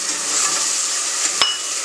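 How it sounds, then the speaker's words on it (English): Chopped tomatoes are stirred into a chicken curry in a hot pan, with a steady sizzle and frying hiss throughout and a single brief clink of the spoon against the pan near the end. "Give it a quick stir."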